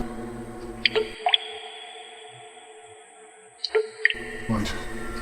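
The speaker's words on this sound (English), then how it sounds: "Drops of water fall from the ceiling? It's a slow leak, but it's getting faster." Water drips from a leaking ceiling, a few distinct close plinks spaced over several seconds against a quiet background, with no voices.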